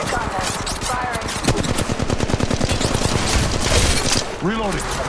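Sustained rapid automatic weapon fire rattles continuously and loudly in the battle royale game Apex Legends, dense fusillade with no pauses.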